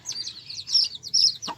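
A desi chicken held in someone's hands gives a quick run of high, thin chirping calls, several short squeaky bursts close up within a couple of seconds, with no talking.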